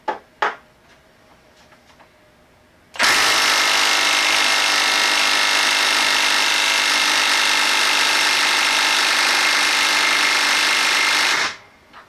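A Milwaukee M12 3/8-inch stubby cordless impact wrench in mode 3, fitted with a small socket, works on a stubborn fastener. A few light clicks come first, then a loud, continuous hammering rattle runs for about nine seconds before cutting off abruptly.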